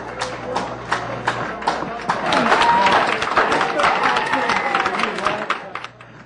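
An audience at a community candidates night breaks into applause partway through, a rising burst of clapping mixed with a voice speaking over it before it fades.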